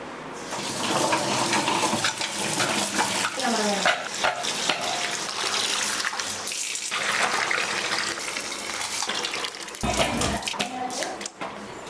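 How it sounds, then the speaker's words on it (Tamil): Water runs steadily from a tap while shallots, ginger and garlic are rinsed for a chicken dum biryani, a continuous splashing gush with brief clatter of the ingredients being swished, loud and close throughout. "இப்போ நாம பிரியாணிக்கு தேவையான சின்ன வெங்காயம், இஞ்சி, பூண்டு எல்லாம் அலாசிக்கலாம்"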